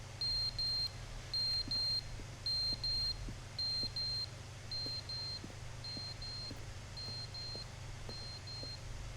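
A fire alarm in the video game The Stanley Parable Ultra Deluxe beeps in steady pairs of shrill electronic tones, repeating throughout over a low constant hum, with no talking.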